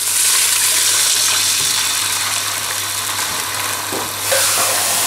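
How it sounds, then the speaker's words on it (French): Water is poured into darsa sauce, a browned spice-and-garlic base for Algerian tbikha with broad beans, peas and artichokes, giving a steady loud gush and sizzle throughout, with a brief shift near the end. "je vais arroser avec de l'eau."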